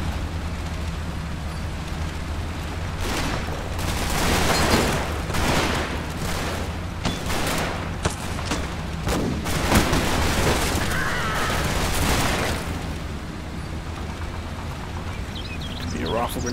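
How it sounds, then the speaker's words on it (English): Rifle grenade blasts and gunfire in the World War II tactics game Combat Mission Fortress Italy, a string of heavy booms and crackling bursts rolling over a steady low rumble, loud throughout. "Rifle grenade or something, I'm not too sure."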